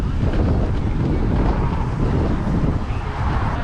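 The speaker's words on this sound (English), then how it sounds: "It's very windy" Strong wind roars and buffets the microphone continuously, a dense, loud rumble with no pauses.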